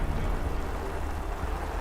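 Heavy rain pours down outdoors in a steady, dense hiss with low rumbling underneath, continuous and close, with no voices.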